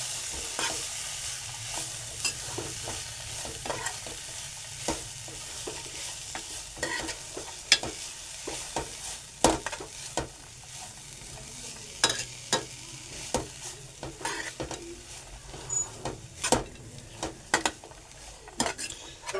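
Onion and vegetables sautéing in a pan while a spoon stirs them, a faint steady sizzle under scattered sharp clinks and scrapes against the metal.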